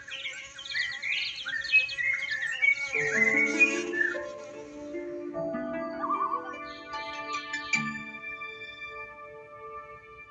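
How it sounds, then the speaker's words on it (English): Bright, warbling birdsong with varied whistled phrases and trills, fairly close and continuous, overlapping calls layered over one another with no talking. "up in the sky there were birds singing"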